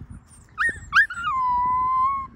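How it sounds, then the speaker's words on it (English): A schnauzer puppy lets out a couple of short rising yelps that stretch into one long, steady, close howl over low background rumble and shuffling. "quit your howling"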